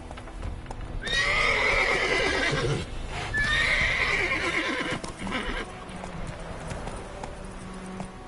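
Roach the horse galloping in The Witcher 3: Wild Hunt, with loud rapid hoofbeats, two drawn-out whinnies in quick succession, and the gallop carrying on at a steadier, softer pace afterward.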